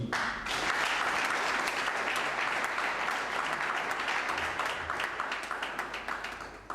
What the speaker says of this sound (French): Nous pouvons nous applaudir.